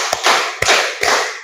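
Three crisp, loud hand claps in a classroom counting exercise, evenly spaced about half a second apart with a short room echo trailing each one.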